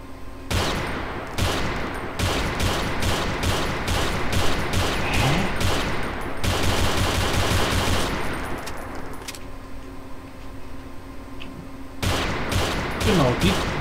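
Rapid gunfire in the shooter game Call of DooM comes in repeated loud bursts, interrupted by short gaps and a mechanical clatter, with someone talking over parts of it.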